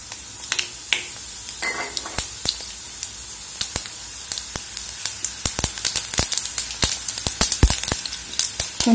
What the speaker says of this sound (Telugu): పోపు దినుసులు వేసుకుందాం